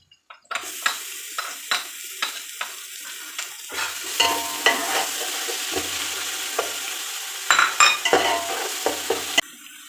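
Ground spice pastes (ginger-garlic, cumin-coriander, red chilli, nutmeg, mace and almond) for chicken biryani are stir-fried in a pan. Rhythmic utensil clicks and scrapes lead into a loud, continuous sizzle, with the stirring clatter carrying on throughout.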